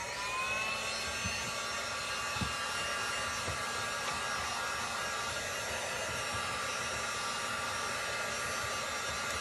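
A hair dryer blows steadily on a painted Dollar Tree pumpkin, a constant close whooshing roar with a high whine running unbroken throughout.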